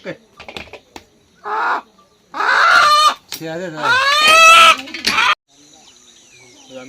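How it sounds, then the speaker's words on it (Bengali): Close clucks and drawn-out squawking calls from a 1.5 kg hill rooster come in bursts, with a person talking in between. "পাহাড়ি মোরগ"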